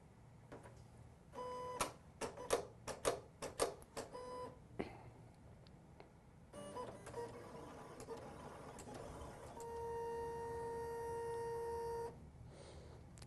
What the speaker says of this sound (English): that was a pretty long cut, because like I mentioned, this is a pretty intricate design, but it cut perfectly